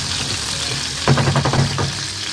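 Fish slid into hot oil in a Bengali home kitchen sets off a sudden loud crackling sizzle midway, with dense spattering bursts over a steady background hiss.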